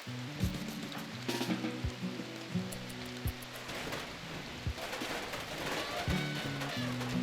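Steady rain falls in the RimWorld video game, a dense hiss running throughout under layered low music tones, with occasional soft thumps.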